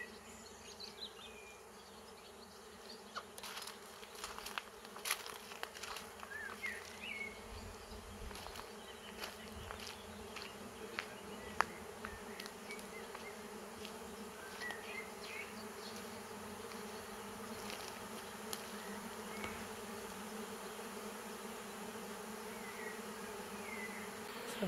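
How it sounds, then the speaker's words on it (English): A large honeybee swarm near a farmhouse, a steady dense hum of many bees buzzing continuously at moderate distance, with individual bees whizzing past closer, no talking. "we're just in the middle of a bee swarm"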